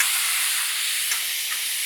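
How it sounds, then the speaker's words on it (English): Steady broadband sizzle of food frying in a pan, a continuous close hiss with a couple of faint pops, heard alone without talk. "sorry if the sizzle's loud."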